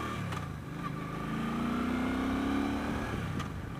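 Suzuki Boulevard C50 touring motorcycle engine pulling through a smooth acceleration, a steady mid-pitched drone rising gradually in pitch with a bit of snarl, heard from the rider's position with wind noise and no talk.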